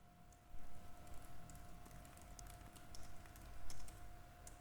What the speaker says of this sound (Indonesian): kita tekan F4 lagi pada keyboard, lalu kita ketik keterangan